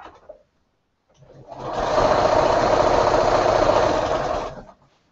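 A sewing machine chain-pieces quilt blocks together in one steady, close, humming run of a few seconds that ramps up, holds, and winds down.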